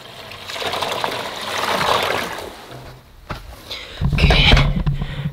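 Water rushing and gurgling through a pipe, a steady hissing flow that fades, then returns louder with a lower gurgle near the end.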